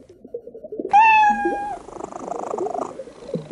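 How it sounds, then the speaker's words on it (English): A single clear cat meow in the PC game I Spy: Fantasy, about a second long, over quiet background music and a soft murmur of game sounds. "A cat."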